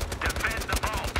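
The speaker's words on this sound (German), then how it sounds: "Merk auf einmal nur Schüsse." Rapid automatic gunfire from a Battlefield Hardline Blood Money match on Xbox One, a steady burst of close, loud shots in quick rhythm with faint voices underneath.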